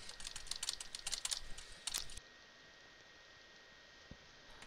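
Rapid clattering of computer keys for about two seconds, close and fairly loud, then the tapping stops and only faint background hiss remains.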